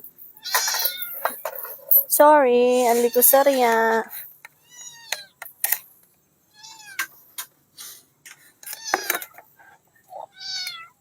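A cat meows several times, including one long, drawn-out wail among shorter cries, while a person talks in between.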